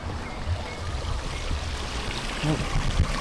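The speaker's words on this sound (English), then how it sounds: "we've got our koi pond, nice water feature" A trickling water feature at a koi pond in an adventure park gives a steady close splashing, gurgling flow, with faint voices underneath.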